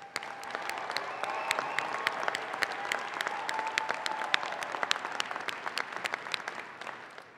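A large audience at a university undergraduate commencement claps steadily, a dense sustained round of applause with sharp individual claps close by, tapering off at the end.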